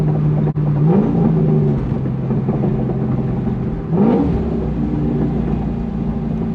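A Chevrolet C5 Corvette accelerates hard on a pull, its engine roaring up through the revs, dipping briefly at a gear shift, then climbing again, loud and close with no talking.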